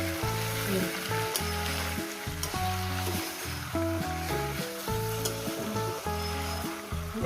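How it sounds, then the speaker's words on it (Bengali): Mutton frying with spices in a pan gives a steady, loud, continuous sizzle that runs the whole time beneath background music. "মশলা দেখুন কষতে কষতে না একটা আলাদা একটা মাংসের একটা কালার চলে আসবে"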